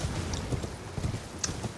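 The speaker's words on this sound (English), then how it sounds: "there will be a very angry, deathly looking guy on a horse here" Hooves of a boss horseman's steed in the video game Elden Ring clip-clop in a steady, evenly spaced rhythm, fairly loud and close, with no talk over them.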